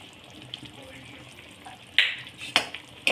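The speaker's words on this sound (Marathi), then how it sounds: "आणि याला चांगल्या प्रकारे परतवून घ्यायचं।" Soft sizzling of spinach egg curry being stir-fried in a pan, with a low steady frying hiss and a few sharper scraping stirs near the end.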